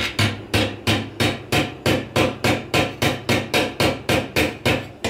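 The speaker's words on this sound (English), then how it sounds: "I have to bend it, and if it is possible, I have to hammer it a little bit" A hammer taps a bent car fuel filler door back into shape with about fourteen evenly spaced, close, sharp metallic blows in quick succession, no talking.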